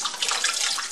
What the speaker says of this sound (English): which gives me very, very soft, pure water straight from this little faucet here